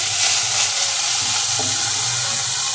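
Chopped vegetables stirred and mixed in a hot pan for homemade hot and spicy Korean-style ramen noodles: a steady, close sizzle with soft scraping throughout, no voices.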